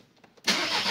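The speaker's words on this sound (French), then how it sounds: "Donc on va démarrer la voiture." A VW Golf 6 TDI diesel engine with a faulty injector cranks briefly, then catches and settles into a steady, loud running roar, up close.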